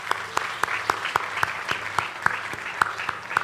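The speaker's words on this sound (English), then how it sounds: "Please, a resounding round of applause." Applause at an awards ceremony, heard as a steady, rhythmic run of evenly spaced claps over a low background hum.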